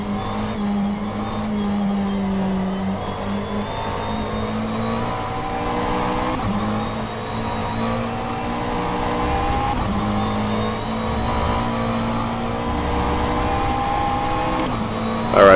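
A GT3 race car engine in the rFactor 2 racing sim at Mugello drones steadily and close throughout, its pitch rising and falling with the throttle and gear changes, with no voices.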